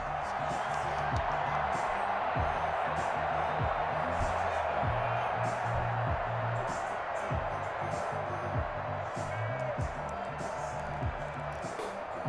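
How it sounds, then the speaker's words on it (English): Crowd noise swells in a video game football matchup ahead of a big third down, a sustained dense roar with scattered thumps beneath continuous play-by-play commentary. "the crowd getting into it as we come up on a big 3rd down"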